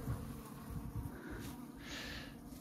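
Honey bees buzz in an open top-bar hive during a February inspection: a dense, continuous low hum that swells slightly, close by and without speech.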